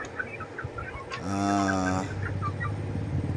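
Farm chickens cluck and call in short bursts, with one long, loud, drawn-out crow-like call from a bird close by in the middle, backed by soft clucking and rustling around it.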